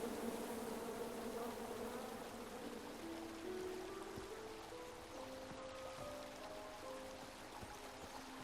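Bees swarm in the King's Quest video game, a dense, continuous buzzing with shifting pitch over a hissing background, steady and fairly faint.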